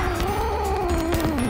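A kitten gives one long, loud, wavering meow up close, sliding slowly downward in pitch and heard on its own.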